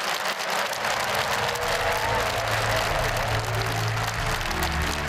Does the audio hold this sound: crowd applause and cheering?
yes